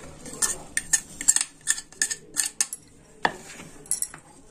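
A metal spoon scrapes and clinks repeatedly against a plate and bowl as ground sesame is scooped out for til ladoo, a dozen or so close, sharp taps in an uneven rhythm with no talking.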